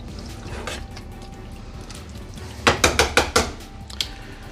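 A utensil pushes Italian-style meatballs down into sauce in a pan, giving a quick run of five clattering metallic knocks and then one more, over a low background hum with no talking.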